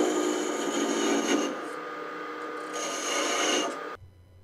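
A gouge cuts very hard holly wood spinning on a lathe, giving a close, continuous rasping hiss that eases slightly midway, swells again, then stops abruptly.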